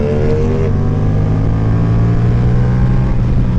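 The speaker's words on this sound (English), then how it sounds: "They put Akrapovic on this one, so it is not stock sound" Ducati Diavel V4 motorcycle fitted with an Akrapovic exhaust, engine running loud and close with a steady deep rumble and a brief rise in revs near the start, no voices.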